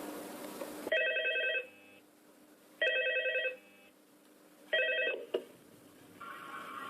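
A telephone rings in the Five Nights at Freddy's 2 video game, repeated trilling bursts of bell-like tones about two seconds apart, clear and moderately loud with nothing else over them.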